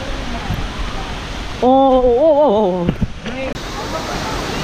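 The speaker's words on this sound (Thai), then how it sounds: "ตอนนี้เราก็มาอยู่กันที่น้ำตกคลองลานแล้วนะครับ" Rushing water at Khlong Lan waterfall makes a steady broadband roar under the whole stretch, with a brief vocal exclamation and people talking nearby.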